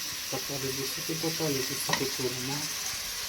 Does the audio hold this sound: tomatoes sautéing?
yes